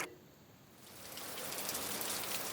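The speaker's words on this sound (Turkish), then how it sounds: "Evet, duyduğumuz bu ses su sesi." Steady water noise swells into a broad, continuous hiss like falling rain or running water, growing louder over a couple of seconds.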